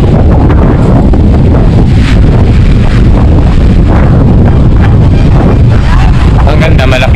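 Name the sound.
wind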